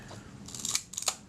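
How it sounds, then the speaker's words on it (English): A Kodak Retinette type 022 camera's leaf shutter fires twice in quick succession, producing crisp, close mechanical clicks against a quiet background. "Shutter fires."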